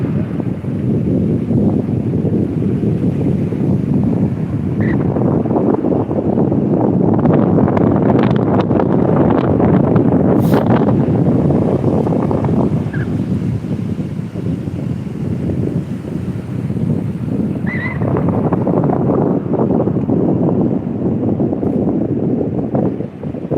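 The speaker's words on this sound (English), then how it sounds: "you got to put up with the wind" Wind buffets a microphone outdoors at an island point, a continuous rough roar that swells and eases over the whole stretch with no voices.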